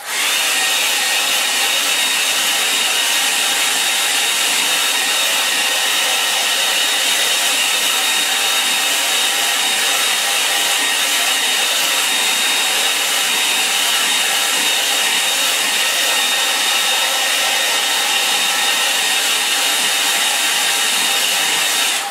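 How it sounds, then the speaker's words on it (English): A hairdryer blows steadily on a watercolour wash, a loud, unbroken high-pitched whoosh and motor whine that runs alone for over twenty seconds without pause. "I might give it a hand with a hairdryer."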